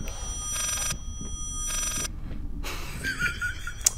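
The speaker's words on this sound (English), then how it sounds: "Is there a phone ringing?" A telephone rings in repeated bursts inside the horror video game Layers of Fear, three long electronic trills separated by short pauses, moderately loud over a low rumbling ambience.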